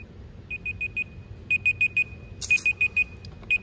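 An exercise timer alarm beeps in quick groups of four short, high electronic tones, one group after another, loud and close, with a brief clatter partway through.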